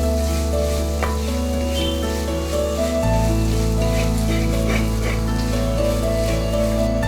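Coriander fries in a pan for Kerala-style beef mappas, giving a loud, continuous sizzle with crackling pops close by. Occasional stirring scrapes break through the steady frying, and the sizzle is heard with no talk.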